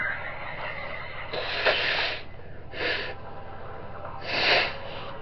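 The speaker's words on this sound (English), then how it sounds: "Sorry, I had to blow my nose" Several forceful nasal blows in short bursts, one long and two shorter, over a low steady background hum.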